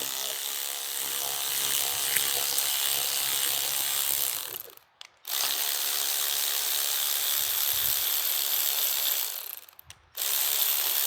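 A ratchet wrench backs already-loosened bolts out of an engine during a valve stem seal job, giving a rapid, steady clicking in two long runs split by short pauses, close and fairly loud with no talking.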